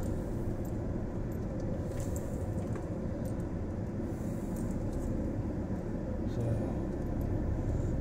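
A car drives through town traffic with a steady, muffled rumble of road and engine noise from inside the cabin, constant and fairly quiet throughout.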